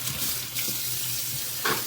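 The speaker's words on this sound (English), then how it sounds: "I just give the screen a rinse." Tap water runs steadily while the mesh screen of a 3-quart Nostalgia iced tea brewer is rinsed, a close hissing splash with a brief louder spatter near the end.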